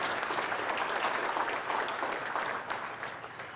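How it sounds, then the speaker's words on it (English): An audience at a small farm conference applauds for a recognised guest, a continuous crowd of clapping hands that stays even and fairly distant before tapering slightly toward the end. "So it's another applause that I would like to present to Karen"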